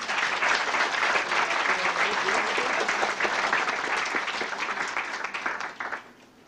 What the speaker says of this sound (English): we will hear a real strong round of applause